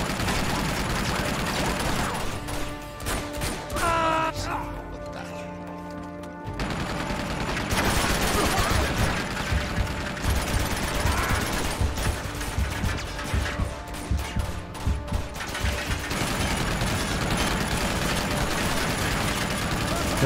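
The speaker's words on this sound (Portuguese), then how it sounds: "A metralhadora vai parar, na hora que ela parar." A machine gun fires in the action game Uncharted 2: Among Thieves, with dense, sustained volleys of gunfire and mechanical clatter that pause briefly and then return loud and continuous amid other game sounds.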